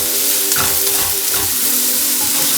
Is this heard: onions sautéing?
yes